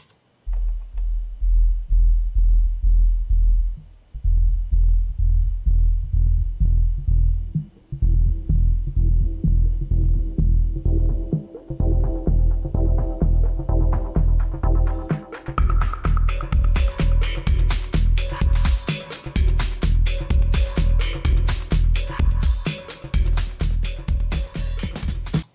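A filter sweeps across a looping pulsing beat, starting muffled and bass-heavy and gradually opening up to bright, crisp highs. The rhythm throbs steadily and loudly throughout with brief gaps, and no one talks.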